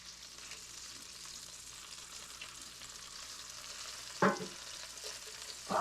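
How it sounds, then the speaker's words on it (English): Bacon crisping in a pan, a faint steady sizzle throughout with a couple of short louder bursts. "Crispy bacon."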